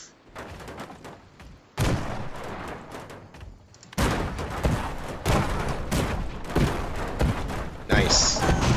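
A cannon battery in Airships: Conquer the Skies booms in repeated loud volleys, with heavy blasts arriving in clusters and short gaps between them, and a voice is heard between the salvos.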